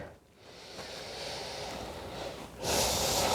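A long breathy exhale during a yoga forward fold, soft and steady for a couple of seconds, then a louder rush of breath at the end.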